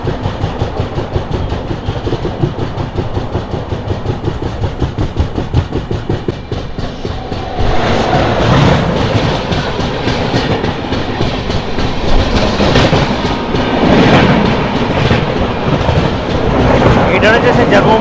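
Narayanadri SF Express passenger train running after departing Begumpet station, with steady rhythmic clickety-clack of wheels over rail joints and a continuous rumble that grows louder and busier partway through.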